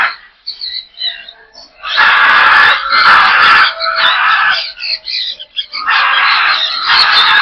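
Cockatoos in a crowded aviary of breeding pairs screech loudly and harshly in long overlapping bursts broken by short pauses, close by and filling the space, with no talk.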